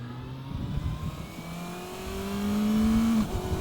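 A 2025 Kawasaki ZX6R motorcycle pulls hard off the line, its engine note climbing steadily in pitch as it accelerates, loud and close with no talking over it.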